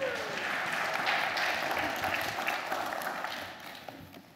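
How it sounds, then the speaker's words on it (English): A church congregation claps as a crowd of hands, a dense patter that swells briefly and then gradually tapers off over a few seconds. "Would you give the guys a hand clap?"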